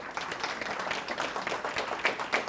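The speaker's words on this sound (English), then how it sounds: "A little applause." An audience at a Cleveland business awards ceremony applauds award winners, a brief burst of dense, steady clapping filling the room at moderate loudness.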